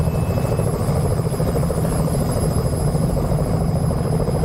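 The rotor of a Robinson R66 turbine helicopter beats in a steady, dense rhythm during a mountain landing at Glärnisch in Switzerland, loud and close with a constant turbine whine above it.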